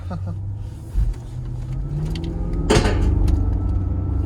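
A supercharged 5.0-litre L322 Range Rover accelerating at about half throttle, its engine drone rising steadily from inside the cabin, with a brief clunk near the middle and someone speaking at the start.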